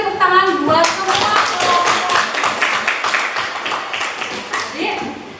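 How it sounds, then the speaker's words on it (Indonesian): A classroom group claps steadily in fast, bright applause lasting several seconds, with a voice briefly audible at the start and near the end. "Jadi kita beri tepuk tangan buat semua."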